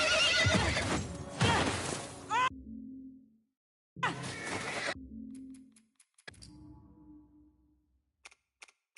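A horse in a video game lets out a loud, drawn-out neigh at the start, followed by a second burst and then scattered faint clicks between silent gaps.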